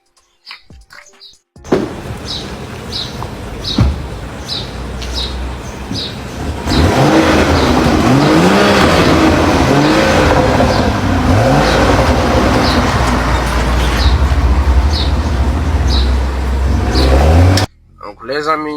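A 2017 BMW X6 M pulls away and drives, its engine rising into a loud, steady drone with revving swells from interior, while a regular ticking repeats through the whole run.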